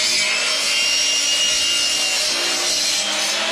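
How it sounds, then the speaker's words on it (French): A hand saw cuts through wood in a steady, continuous rasping stroke, loud and close, with no voices over it, in a garage where a BMW is being modified. "Avec la scie à bois."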